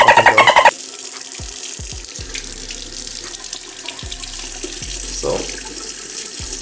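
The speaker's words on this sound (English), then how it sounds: "So let me turn on the water." A bathroom tap runs water into a sink in a steady, close hiss that continues throughout. It starts after a brief burst of music, and faint clicks and light handling sounds occur over it.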